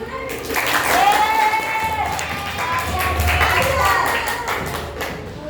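A classroom of students at an Islamic boarding school claps after a physics presentation, giving a steady wash of applause at close range with voices and some tonal chatter running through it.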